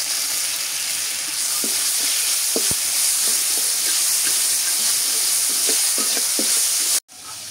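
Garlic, onion and cumin pastes hit hot oil in a pan for a Bangladeshi loitta fish dish, producing a loud, dense, hissing sizzle with scattered pops that cuts off abruptly near the end.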